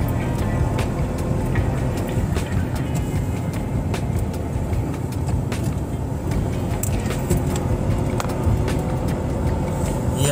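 Steady car traffic streams along the Dwarka Expressway, a continuous loud road roar with passing vehicles blending into a dense, unbroken wash of engine and tyre noise.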